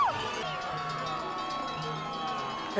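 Continuous distant crowd cheering at the Utah Olympic Park bobsled and skeleton track, a dense, even roar with whistles and shouts rising out of it for the whole stretch.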